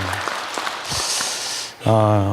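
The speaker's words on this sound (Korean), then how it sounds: "우리 한번 찬양팀에게 한번 격려의 박수를 보내주시면 감사하겠습니다" A church congregation at a New Year revival evening service applauds the worship team in a brief burst of clapping. The clapping gives way to someone speaking.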